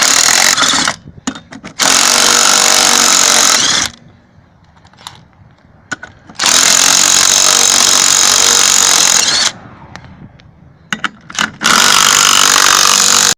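Power tool zipping the bolts off a Chevrolet Cobalt wheel during a wheel bearing and brake job: loud, close bursts of whirring with a quieter gap between them and brief clicks, no talking.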